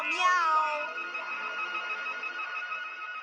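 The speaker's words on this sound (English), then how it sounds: "Meow, meow, meow." Cartoon cat meowing sound effect: a single drawn-out, pitch-bending meow that starts loud and trails into a sustained tone, heard alone without talk.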